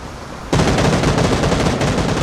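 Loud, sustained automatic gunfire from a PUBG match bursts in after a quiet moment and rattles on continuously, rapid shots close and dense with no pauses.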